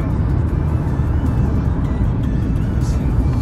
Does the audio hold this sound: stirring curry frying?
no